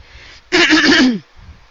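A single harsh throat clearing, close and loud, lasting under a second between quiet pauses.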